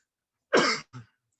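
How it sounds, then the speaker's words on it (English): A single sharp cough followed by a shorter second cough, close and loud against silence. "Sorry for the cough"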